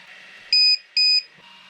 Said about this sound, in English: Let's hook up the lipo checker and alarm.